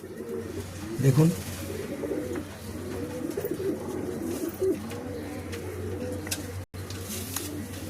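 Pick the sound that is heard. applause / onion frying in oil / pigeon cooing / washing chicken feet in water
pigeon cooing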